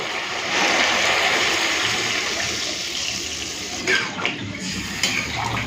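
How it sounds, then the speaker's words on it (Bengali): Water is poured into a pot of koi fish curry with fried spices and potatoes, a close, steady rush of liquid that peaks early and then thins into softer splashes and a few clinks near the end. "এই সময় আমি দিয়ে দেবো পরিমাণ মতো জল"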